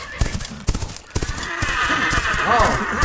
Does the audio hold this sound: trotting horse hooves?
yes